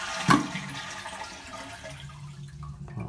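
A household toilet that keeps running after filling is flushed, giving a close, loud burst of rushing water followed by steady swirling and refill flow, with no talking.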